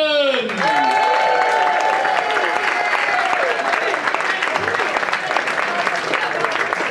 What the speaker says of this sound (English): please give a huge round of applause and welcome James Alderson!